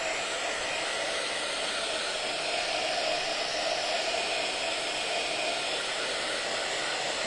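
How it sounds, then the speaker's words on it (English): A hair dryer blows continuously at steady full power to dry a wet surface, a loud, even airy roar held close for the whole stretch with no talk. "Let me dry it a second."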